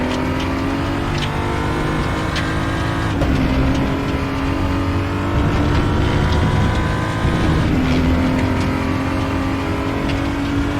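A BMW M235i Racing car accelerates hard on the Portimao circuit, its engine note climbing steadily, with two brief dips at gear changes, loud and continuous from the cabin.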